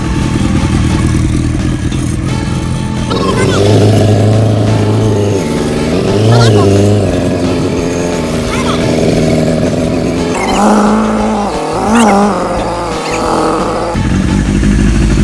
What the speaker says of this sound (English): Nice tuned bike.